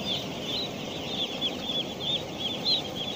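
Many chicks peeping and chirping together in a constant high-pitched chorus on a poultry farm of about 4,000 chicks, close and busy, with no other sounds.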